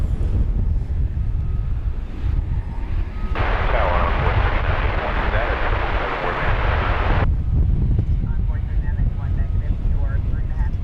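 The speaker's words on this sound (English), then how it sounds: "American 131 heavy, Wolfer, 20 left, clear for takeoff." An airliner taking off at DFW airport roars loud and broadband with heavy wind buffeting on the microphone, swelling into a strong rush for several seconds in the middle before easing back to a lower rumble.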